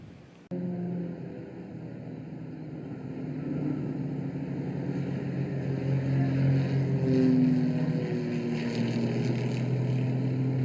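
A British Aerobatic Academy propeller aerobatic plane drones steadily overhead during a display, its engine tone holding and slowly swelling louder, heard alone without talk.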